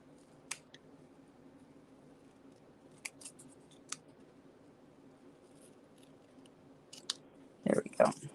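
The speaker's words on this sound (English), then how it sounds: "These aren't even proper paper snips." Paper snips cut through cardstock in a few sparse, quiet snips over a low steady room hum, ending with a louder burst of close handling noise.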